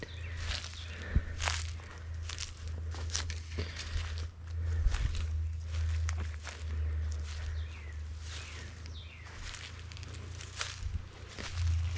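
Footsteps crunch steadily on dry ground at night, brisk and uneven, with rustling between steps over a low background rumble.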